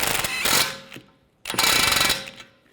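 A ratchet snugs down the nut on a strut bracket bolt of a 2007-2013 BMW 328i, two bursts of rapid metallic clicking close up, each fading out, with a short pause between them.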